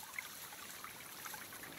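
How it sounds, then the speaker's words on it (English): Waterfall spilling gently into a stream gives a soft, steady trickling and splashing wash, faint and continuous, with no voices. "they watched as a beautiful waterfall fell gently on the water"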